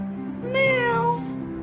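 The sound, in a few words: child imitating a cat's meow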